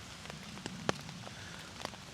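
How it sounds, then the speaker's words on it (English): Rain starting again on a shelter while wild camping in autumn woodland, a steady soft patter with scattered sharper drops tapping close overhead, with no talking. "Rain started again, I think."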